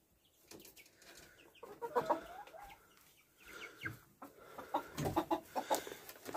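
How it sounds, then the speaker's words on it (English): Rooster and hens clucking inside a chicken coop, a run of close, uneven clucks and squawks rising in bursts, with quiet gaps between them. "Here's the other rooster."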